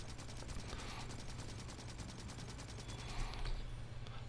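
Automated gun turrets in the Factorio video game fire in rapid, evenly spaced bursts that form a continuous rattling volley over a low hum, fairly quiet and with no talking.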